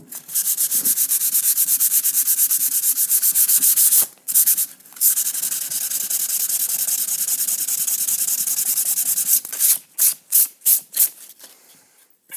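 Sandpaper rubs hard over painted wood to distress the finish, a steady scratchy rasp running almost continuously, then breaking into short separate strokes near the end, close and loud with no talking.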